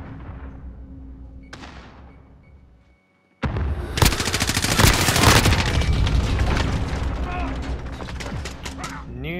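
Rapid, loud automatic gunfire in Modern Warfare, a sustained burst of dense shots after a brief silence, with a faint voice briefly under the battle noise.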